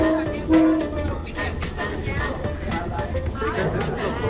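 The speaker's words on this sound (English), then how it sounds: "They just keep on honking like every 2 seconds" A Thai local train with open windows runs along the track while its horn sounds in short repeated honks over steady rolling rail noise, with people talking throughout.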